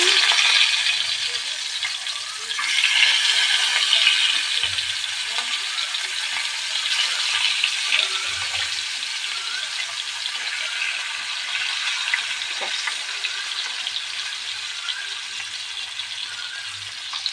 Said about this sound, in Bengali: এই সর্ষের তেলে মাছটা ভাজা হবে।